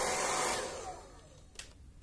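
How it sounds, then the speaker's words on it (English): A handheld hair dryer blowing on a watercolor pencil painting to dry it, a steady close airy roar that fades and winds down, followed by a faint click, with no talk. "I'm just gonna grab the hair dryer."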